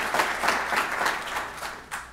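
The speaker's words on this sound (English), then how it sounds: "how about another round of applause for Anna Kavira Smith?" Audience applause at an event, a moderate patter of clapping hands heard at a slight distance, rising and falling in waves over about two seconds.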